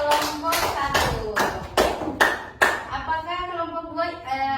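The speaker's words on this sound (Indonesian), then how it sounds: "Oke, tepuk tangan dulu untuk kelompok 1." A primary school classroom of sixth graders claps for a student group, several loud bursts of hand claps followed by students' voices talking.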